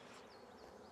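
Honey bees fanning at the hive entrance, a steady close insect buzz with no pauses and no voices.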